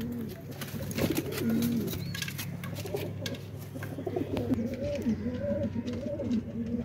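Pigeons that stay outdoors from morning to night coo in repeated low, throaty phrases. Fainter chirps and rustling surround them, and no one speaks over the cooing.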